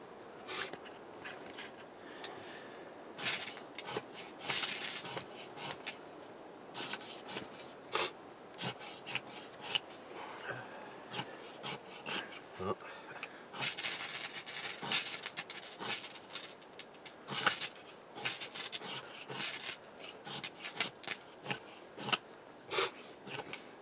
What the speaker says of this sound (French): souvent les fire steel, avec la fumée, s'enveloppent de résine. Et donc il faut un peu les gratter et les frotter un peu avant pour dégager la résine